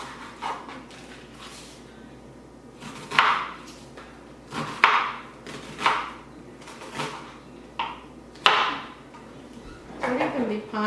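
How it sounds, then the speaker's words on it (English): Knife chopping onions on a board while cooking garlic shrimp, a series of separate sharp cuts spaced irregularly, some louder than others, with quiet background between strokes. "I'm gonna cut up onions"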